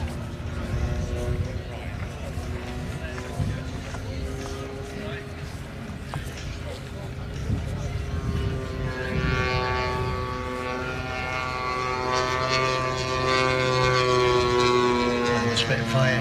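At an airshow, the petrol engine of a model Spitfire aircraft turns over and starts, building into a steady propeller drone with rising tones, heard nearby amid crowd noise and talk.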